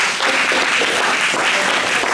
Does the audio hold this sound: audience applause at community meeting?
yes